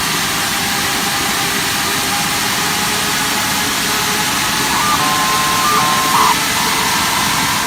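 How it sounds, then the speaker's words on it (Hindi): Steady, continuous roar of an airplane jet engine running on a ground test, a broad unchanging rumble and hiss with a faint tonal whine rising briefly near the end, no voices. "ये तो बस हवाई जहाज के इंजन का टेस्ट किया जा रहा है"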